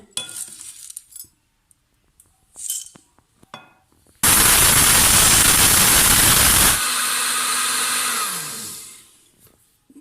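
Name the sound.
electric grinder grinding turmeric into powder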